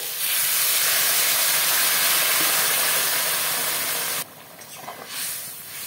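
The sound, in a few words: hot water poured into fried spice paste, hissing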